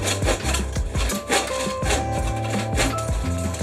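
A drill press bores through tough wood, giving loud rough grinding and rasping with repeated surges and short pauses as the bit bites in.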